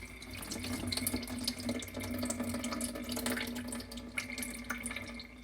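Liquid from an opened can of beans pours through a draining tool into a sink, a steady trickling, splashing flow with occasional drips, close and fairly quiet, with no talking.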